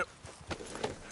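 Horse hooves clip-clop in Red Dead Redemption 2, a few quick hoofbeats on the ground at a moderate distance, heard only briefly.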